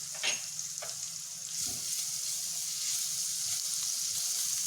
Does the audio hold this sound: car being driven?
no